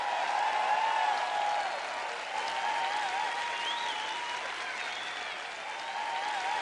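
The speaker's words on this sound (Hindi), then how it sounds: "थोड़किन जोर दे ताली बजाओ" Applause from a church congregation, steady and dense, sustained at an even level throughout with no speech over it.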